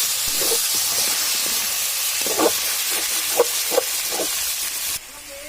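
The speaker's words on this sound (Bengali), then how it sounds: "এখন আলুগুলো সুন্দরভাবে ভেজে নেওয়া হবে, একদম নতুন আলু" Small round new potatoes frying in hot oil, a steady loud hiss and sizzle with faint popping and light clinks on top, cutting off near the end.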